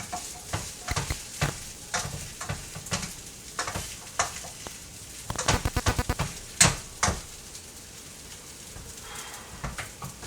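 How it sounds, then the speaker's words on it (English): Bacon kimchi fried rice browns in a pan with bacon grease, sizzling steadily under repeated scraping strokes of a spatula that stir and clack against the pan close up. "let the rice brown a little bit, and it's going to stick"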